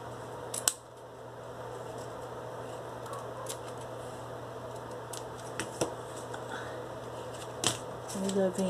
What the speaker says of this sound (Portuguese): Agora a gente vai cortar aqui